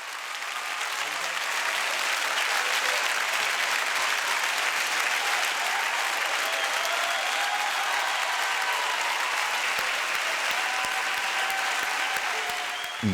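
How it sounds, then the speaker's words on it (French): A studio audience applauds steadily and loudly for a talk show host at the 1994 premiere of his new show, a dense sustained clapping that swells early and holds throughout, without voices over it. "les applaudissements vont durer plusieurs minutes"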